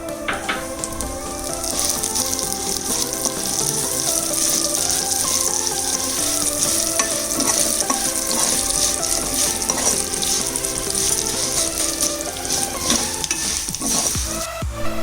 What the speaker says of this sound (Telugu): ఇప్పుడు ఇదే నెయ్యిలో సేమియా వేసి ఫ్రై చేసుకుందాం.